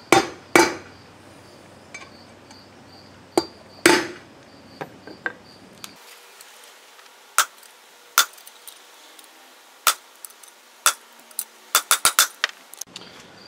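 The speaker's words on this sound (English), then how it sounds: "I found a bearing driver. It fits right on there. This happens to be a 50 millimeter. And we'll go ahead and drive that in." A 50 mm bearing driver hammered onto a trailer wheel bearing race: loud, close metallic strikes spaced irregularly at first, then quickening into a rapid cluster of blows toward the end.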